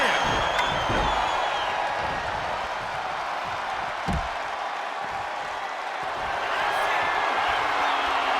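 Crowd roar from a WWE 2K25 wrestling arena, a steady, loud wash of cheering and applause that lasts throughout, with a sharp slam-like impact near the middle and some voices mixed in.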